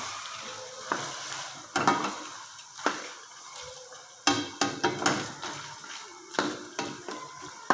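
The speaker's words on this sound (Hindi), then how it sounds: "अभी हम मज़ीद इसको भून ले जाएंगे" Chicken korma with crushed tomato and green chilies being fried and stirred in a pot, with soft steady sizzling broken by repeated scraping strokes of a spoon against the metal, close up and without talk.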